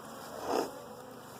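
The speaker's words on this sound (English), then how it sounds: "And then the bees will clean up the comb, repair it." Honey bees buzz over wax comb that was frozen to kill wax moths, a faint steady insect hum with one brief louder swell as a bee passes close.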